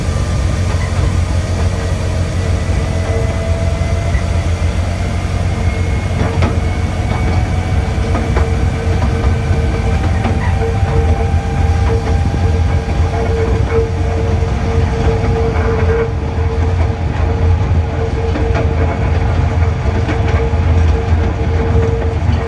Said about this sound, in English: just doing about 4 miles an hour as the train comes out